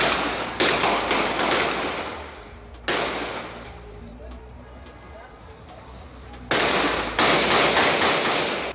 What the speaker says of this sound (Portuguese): Quando os PMs chegaram, os bandidos reagiram e houve um intenso tiroteio.